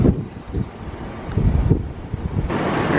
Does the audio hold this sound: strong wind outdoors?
yes